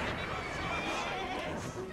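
A horse whinnies in Assassin's Creed Syndicate, a dense, continuous neigh over busy game background noise, steady and fairly loud for the full two seconds.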